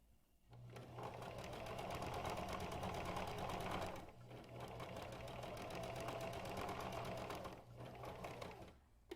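A sewing machine stitching a fabric face mask, running in two long steady bursts of rapid even needle strokes with a short pause between, close and fairly quiet.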